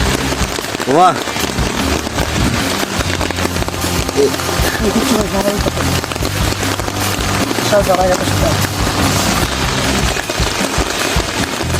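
Steady, dense rain falls outdoors during a shrimp fishing trip, a loud continuous patter with scattered sharper drops, while someone speaks excitedly over it.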